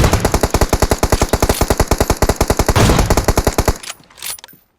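Rapid automatic gunfire in PUBG Mobile, a long, loud, evenly spaced burst of close shots lasting several seconds, then a sudden stop and a brief faint tail.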